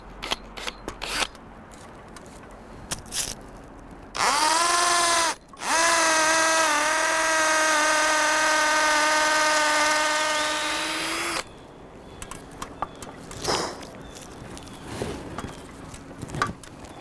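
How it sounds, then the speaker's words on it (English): A cordless electric drill with a 10mm bit bores into a tree trunk, a few short trigger blips, then a loud close whine holding steady for about seven seconds with a brief dip, ending in scattered clicks and handling noises. "drill a hole approximately 6 to 7 centimeters into the tree using the 10mm drill bit"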